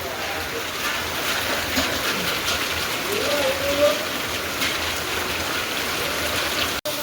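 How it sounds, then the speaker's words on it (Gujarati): Steady rain pours down in a village during a hot spell, a dense even hiss throughout with a faint voice briefly rising underneath. "આજે તો વરસાદ આવવા જ માંડ્યો."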